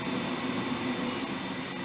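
JA8X Jet Air oven fan running, a steady broadband whoosh of moving air with a low hum underneath, constant and close, with no talking.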